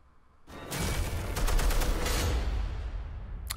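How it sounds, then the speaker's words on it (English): Rapid gunfire rings out in a video game trailer, a dense fusillade of shots that bursts in after a quiet start and keeps going loud for several seconds before cutting off. "Already shooting some guns."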